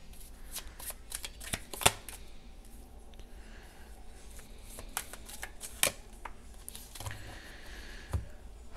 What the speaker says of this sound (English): Can I get three cards for Archangel Michael?